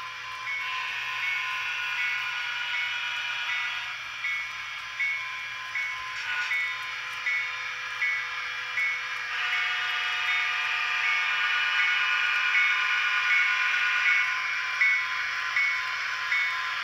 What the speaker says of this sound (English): After the new crew boards, the train departs.